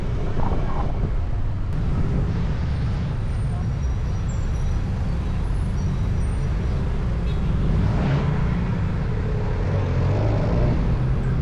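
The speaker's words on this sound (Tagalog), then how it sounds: "medyo traffic ngayon dito sa Ortigas Extension" Road traffic on Ortigas Extension, a dense steady roar of cars and buses with low rumbling engines and wind buffeting, loud and continuous, while someone talks over it.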